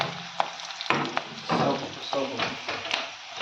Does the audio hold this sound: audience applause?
no